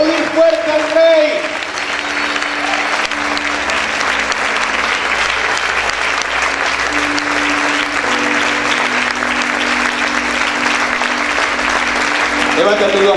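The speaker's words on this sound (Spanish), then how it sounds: "Vamos a aplaudir fuerte al Rey." Loud, sustained applause from a church congregation filling the room at an even level, with a speaking voice briefly audible at the start and close.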